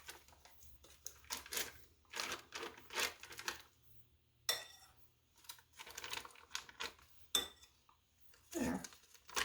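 A spoon scrapes the last cream cheese from the inside of its container, giving repeated quick scratchy scrapes and light taps in short bursts, close and fairly quiet.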